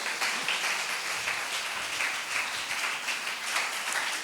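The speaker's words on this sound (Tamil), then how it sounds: "கையை தட்டி ஒரு ஆரவாரம் பண்ணுங்க." Church congregation clapping and cheering together, a dense steady wash of many hands with rhythmic surges, loud and close, no talk over it.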